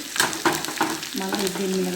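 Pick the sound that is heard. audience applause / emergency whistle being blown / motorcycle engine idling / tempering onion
tempering onion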